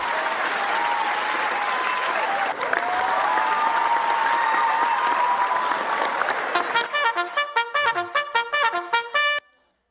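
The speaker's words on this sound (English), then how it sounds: "That deserves an applause, I feel." Loud, sustained applause from a crowd, thinning toward the end into scattered individual claps before stopping abruptly.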